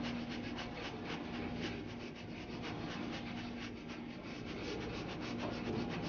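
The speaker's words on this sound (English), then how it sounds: "And now we're going to do the breath of fire, very rapid breathing." Yoga breath of fire: a fast, forceful in-and-out breathing pumped from the navel. It keeps a steady, even rhythm throughout and sounds close.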